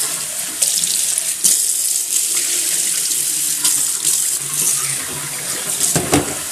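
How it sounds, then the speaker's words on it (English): Tap water runs steadily into a sink as a glass vase is rinsed out, a close, continuous splashing rush with small shifts as the vase moves under the stream. "I'll just rinse out this vase, and we'll wash it a little bit later."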